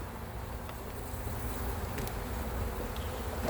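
A dense, steady drone of many honey bees buzzing up close at the hive, a continuous hum that grows slightly louder toward the end.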